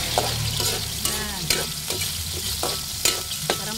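Onions and chili sauté in a hot pan, a steady sizzle broken by a spatula's rhythmic scraping and tapping strokes roughly every half second, close and fairly loud with no talking.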